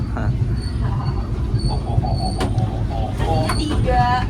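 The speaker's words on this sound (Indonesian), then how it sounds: "Nah, ini udah persiapan masuk stasiun Cirebon Perujakan." A Gaya Baru Malam Selatan passenger train rolls into Cirebon Perujakan station, a steady rumble of wheels on rails with scattered metallic clanks and brief squeals, heard from aboard over ongoing talk.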